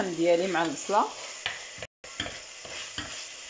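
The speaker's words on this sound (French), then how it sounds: "il faut bien euh, mijoter le laisser mijoter la viande avec euh, les oignons" Meat and onions cook in a pot for Algerian chorba, with a soft sizzle and a few scraping stirs. A voice speaks at first over the cooking, and there is a short silent gap.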